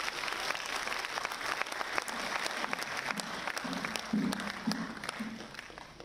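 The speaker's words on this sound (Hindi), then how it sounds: "तालियां रुकनी भी चाहिए" Sustained applause from an audience at a cooperative week celebration attended by a state governor, a moderately loud wash of clapping with a few sharper claps and low voices mixed in.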